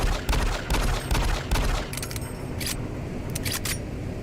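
Fake Desert Eagle pistol in a video game firing several sharp, punchy shots in quick succession, followed by crisp metallic clicks and clacks of handling, close and dry with no talking.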